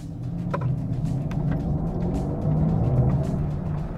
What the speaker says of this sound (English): So this is the standard sound for this AMG EQS when you accelerate.